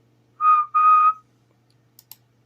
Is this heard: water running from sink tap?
no